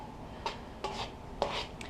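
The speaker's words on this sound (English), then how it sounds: "So we're just going to keep stirring this around" A rubber spoon stirring onions in a non-stick pan gives soft, separate scraping and rubbing strokes, four quiet sweeps spaced irregularly over about two seconds, close by with no talking.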